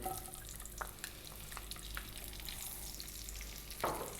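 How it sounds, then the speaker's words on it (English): Onion and carrots fry in a pan with a soft, steady sizzle and a few light clinks and scrapes, fairly quiet throughout. "we're going to drop in our onion"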